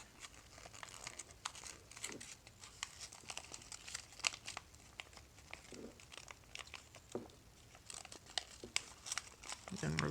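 Paper crinkles and crackles in short bursts as it is folded into an origami square Tetris piece, close and quiet with intermittent rustles and creases.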